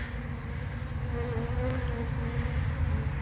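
Honeybees buzz around a mini nucleus hive that ants have been troubling. The drone is dense and steady, close to the ear, with no voices.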